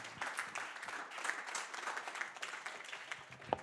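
A church congregation at a Sunday gospel festival service applauds Jesus Christ. The soft, somewhat distant clapping is dense and uneven, rising in a few brief swells for several seconds.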